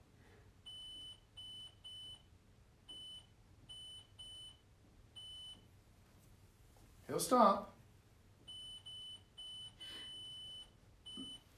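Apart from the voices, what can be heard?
ghost-hunting device beeping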